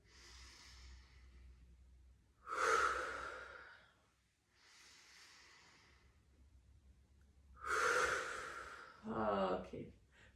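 Slow, audible breaths in and out accompany a yoga class, alternating with soft spoken guidance from an instructor, each exhale rising into a louder, drawn-out rush of air.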